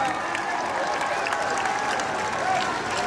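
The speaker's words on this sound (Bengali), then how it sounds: "জোরে করতালি দিচ্ছি" Audience at an annual sports and cultural day applauding steadily and densely throughout, a sustained wash of clapping with faint voices and cheering mixed in.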